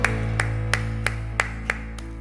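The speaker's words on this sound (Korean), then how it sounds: "우리 주님께 영광과 감사의 박수 올려드리겠습니다." A church congregation during Sunday worship claps in unison, sharp evenly spaced claps about three per second over a steady sustained musical tone.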